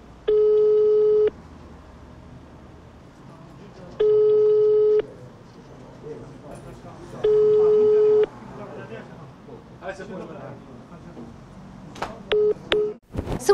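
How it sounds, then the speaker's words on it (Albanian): A telephone call to a court chancellor rings unanswered, its tones repeating three times in long even bursts with pauses between, over a quiet room with faint background voices and a few clicks at the end. "ne do ta kontaktojmë atë në telefon"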